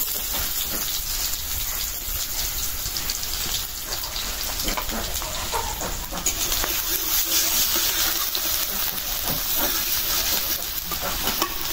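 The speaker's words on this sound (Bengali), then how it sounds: "পেঁয়াজটা ভাজা হয়ে গেল" Onions sizzle and crackle steadily in hot oil with a bay leaf in a pan for fish curry, a continuous close frying hiss with faint stirring throughout.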